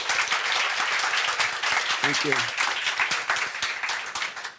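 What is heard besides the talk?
audience applause for panelists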